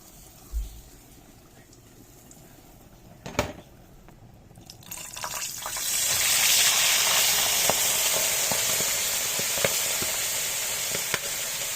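Milkfish intestines sizzle and spit in hot frying oil, a few sharp pops first, then a loud, steady crackling hiss with scattered splatters that goes on close up and uninterrupted.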